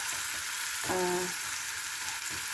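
Ground beef frying in a pan for a Filipino eggplant omelette, a steady close sizzle with a brief brighter crackle in the middle, heard alone.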